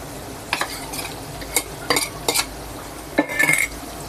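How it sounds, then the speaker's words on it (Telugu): Cluster beans fry with peanut powder and chilli in a pan while a spoon stirs them, giving a handful of separate scraping strokes and light clinks over a faint, low sizzle. "బాగా కలుపుదాం."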